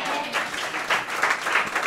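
A church congregation claps together in a sustained burst of applause, loud and close, filling the short moment with dense clapping.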